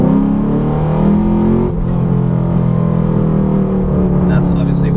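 A 2012 Chevrolet Camaro SS with an LS3, long-tube headers and no mufflers pulls hard in second gear, a loud, rising exhaust drone heard from inside with the windows up, steady for the whole stretch.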